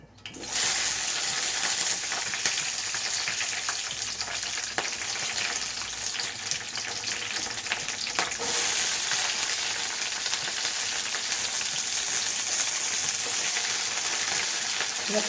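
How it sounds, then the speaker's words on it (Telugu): Red chillies frying in a pan for a tomato and red chilli chutney, a loud continuous sizzle and crackle that starts abruptly and holds steady throughout, with no talk over it. "ముందు పండుమిర్చి వేయించుకోవాలి."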